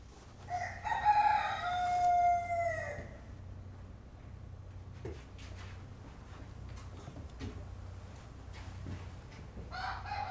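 A rooster crows loudly in a bright morning countryside setting, a long drawn-out call with rising harmonics near the start, followed by quieter rural ambience with scattered clicks and faint birdsong.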